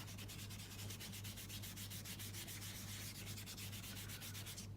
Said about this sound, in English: we're just going to really lightly brush over to bring up some of those colours, some of that embossing